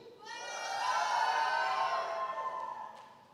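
A youth congregation at a church gathering cheers and shouts together, a sustained crowd roar swelling over a few seconds and then tapering off, with no single voice standing out.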